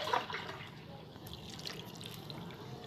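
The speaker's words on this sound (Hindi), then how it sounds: "अब इसमें पानी डालेंगे।" Warm water poured into a cooking pot of spiced chakna, with bay leaf, cubeb pepper and coriander powder already in, making a steady close splashing trickle that stays even throughout, with no talk.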